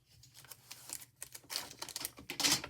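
Fast typing on a new computer keyboard, a busy run of soft, close clicks and clacks that grows denser and louder toward the end, with no talking over it.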